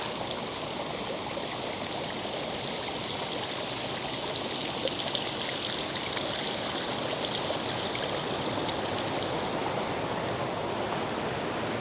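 A side stream feeding the Mukogawa River runs steadily beside an old railway route, making a continuous close rushing and trickling wash of water with no pauses.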